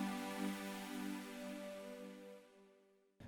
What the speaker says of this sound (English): When the music starts out loud but gradually gets softer, we call this a decrescendo